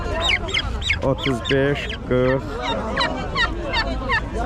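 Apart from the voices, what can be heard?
turkeys and geese at a poultry market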